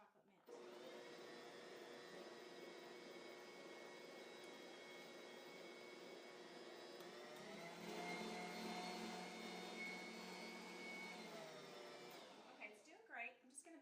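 An electric mixer whips chocolate buttercream icing in a bowl, a steady close whirring motor that shifts pitch slightly partway through, runs alone without talk, then cuts off near the end.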